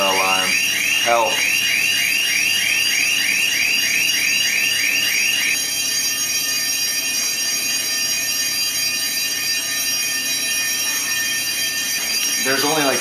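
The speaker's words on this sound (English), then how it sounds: "Ray, I just set off your burglar alarm." A burglar alarm set off inside a house shrills loudly and continuously in a rapid warbling pulse that runs the whole time, with people talking underneath it.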